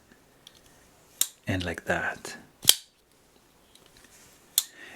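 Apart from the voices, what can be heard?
pocketknife flipper blade opening and locking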